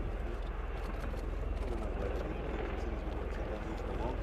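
Bell-Boeing CV-22B Osprey tiltrotor of the United States Air Force flying at the RIAT 2017 airshow, its rotors giving a steady, dense throbbing drone under continuous narration.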